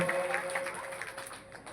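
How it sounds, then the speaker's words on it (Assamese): A crowd applauding at an outdoor public event in Kushal Nagar, a steady patter of many hands clapping at a moderate distance that continues evenly throughout. "আকৌ এবাৰ হাত চাপৰি এটা দিয়কচোন সকলোৱে"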